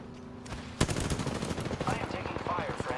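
Rapid automatic gunfire in a shooter video game bursts out loud and close, with sustained rattling shots and scattered impacts continuing to the end.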